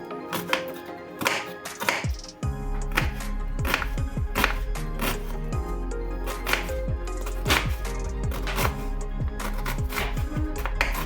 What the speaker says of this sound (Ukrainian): До кабачка нарізаю пів цибулини.